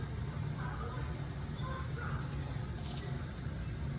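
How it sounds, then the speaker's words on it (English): Tap water rushes steadily into a pot that will hold the base for a chicken and sausage gumbo, a continuous close hiss without talk. "I'm gonna fill this up with water."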